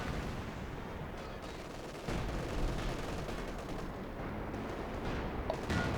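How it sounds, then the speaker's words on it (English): Katyusha rocket artillery barrage in the video game Company of Heroes 2, a continuous rumbling wash of distant blasts and crackling impacts that swells after a couple of seconds and carries on steadily, with no talking. "There's the Katyushas. There they are, just smashing the whole area."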